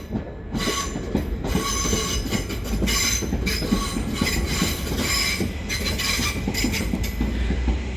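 A train on the Isle of Sheppey line rolls past close by, loud and steady, with rhythmic wheel clatter and bright metallic squeals rising and fading over the rumble.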